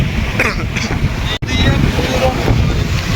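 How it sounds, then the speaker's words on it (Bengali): Heavy sea waves roar onto a beach in a loud, continuous wash of surf, with wind buffeting the microphone throughout and a brief dropout near the middle. "সমুদ্রের গর্জনটা যদি আপনাদের শোনানোর চেষ্টা করি"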